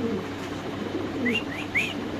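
Black Lahori pigeons make short rising calls and coos up close, three quick upward-sweeping notes following soft low cooing over a faint steady hum.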